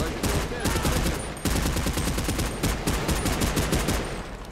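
Battle Rifle gunfire in GTA Online, loud, fast bursts of shots that repeat steadily and are briefly broken by one short pause, with no talking over them.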